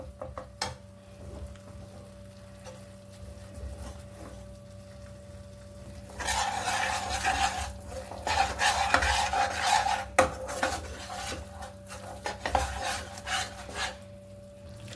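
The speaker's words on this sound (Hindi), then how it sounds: "थोड़ा थोड़ा घी छोड़ना स्टार्ट हो गया है और हमारा बेसन जल्दी जल्दी अच्छे से भुन जाएगा।" Gram flour is roasted in ghee while a spoon scrapes and stirs it around the pan, a steady close rasping that grows louder and busier halfway through, over a faint constant hum.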